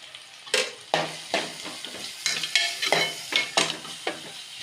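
Spices stirred and sautéed in a hot pan for chicken curry with turmeric: a spoon scrapes and clinks in repeated strokes, about a dozen over a few seconds, over a steady close sizzle.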